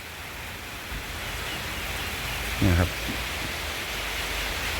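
Steady rain falls across a rural farm garden, a constant even hiss throughout, with someone briefly speaking a short phrase midway.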